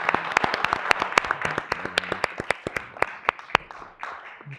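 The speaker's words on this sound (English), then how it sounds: "Another round of applause for Dr." Board meeting audience applauding, sparse individual claps with a few sharp loud ones over a softer steady patter, close and alone without talk, tapering toward the end.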